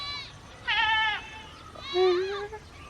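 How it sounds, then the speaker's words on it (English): Two clear, wavering bleats from goats nearby in Uganda, one short and high, the next longer with a falling pitch, over faint outdoor background. "There are we see a lot of goats out here."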